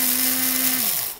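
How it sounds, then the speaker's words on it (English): An inexpensive electric coffee bean grinder grinds flax seeds with a steady, loud high whine that holds for about a second, then its pitch sags as the motor spins down near the end. "get a coffee bean grinder, one of those real inexpensive ones at the store, and you can put your flax in it"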